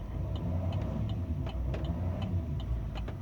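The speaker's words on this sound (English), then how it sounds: "the engine sounds smooth" A Chevrolet Silverado 3500HD with a Duramax engine idles steadily with the brake set, a constant low rumble carrying faint, regular ticking clicks.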